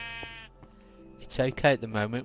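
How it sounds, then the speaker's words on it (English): Minecraft sheep bleating: one clear bleat at the start, then someone speaks over a quiet background. "You can hear the sheep in the background."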